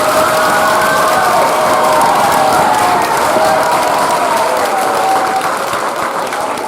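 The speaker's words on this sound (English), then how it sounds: "Let's give them one more quick round of applause" A school Veterans Day assembly crowd applauds the second graders, the loud, dense clapping mixed with cheering and children's shouts, holding steady throughout.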